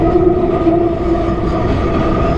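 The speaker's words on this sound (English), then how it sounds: "It's a funny train, look at that." A short two-carriage train rolls past close by, a loud steady rumble with a sustained droning tone and no voices.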